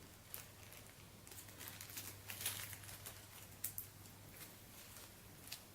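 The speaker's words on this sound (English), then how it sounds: "still plastic bags go in the trash bag" Plastic bags crinkle and rustle faintly while a starter tool set with dies and a hand press for eyelets and rivets is unpacked, with scattered soft crackles and a couple of sharper crinkles over a low background hum.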